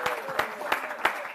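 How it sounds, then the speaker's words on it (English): Studio audience at a Kenyan late-night comedy show clapping for a comedian, a short run of rhythmic claps in a steady beat, moderately loud, with a host's voice talking over it. "let's clap for him"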